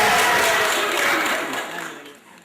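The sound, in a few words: applause at a wedding ceremony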